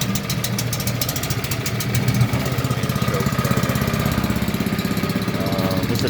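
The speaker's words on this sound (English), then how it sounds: "This is a 2-inch pump." A small engine-driven 2-inch water pump idles on a gold-dredging rig, a close, steady chugging putter with an even pulsing rhythm that runs unbroken throughout.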